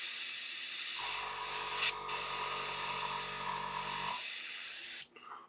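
An airbrush sprays paint onto a Warhammer miniature, a steady close hiss of air with a lower compressor hum underneath that cuts off near the end.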